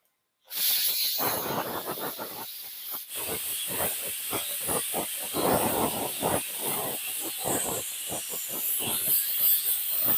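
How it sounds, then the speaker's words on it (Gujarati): Pressure cooker after three whistles, with its pressure released by hand on a gas stove in a home kitchen while cooking green corn: a sudden loud hiss that starts abruptly and keeps spurting and sputtering in rapid pulses for about ten seconds. "તો હવે આપણે કુકર માંથી એટલે હવા કાઢી નાખશું"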